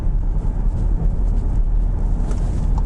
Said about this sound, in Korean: 약간 단차나 이럴 때도 조금 그 귀를 압박하는 부밍성의 그런 타이어 소음들이 좀 들어옵니다